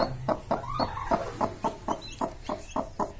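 Sussex hen clucking in a steady rhythm, about ten short clucks in three seconds, close and fairly quiet with no other sounds.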